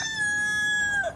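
A rooster crows on a family farm in Lake Providence, Louisiana, one clear, loud, drawn-out call held for about a second, close and alone.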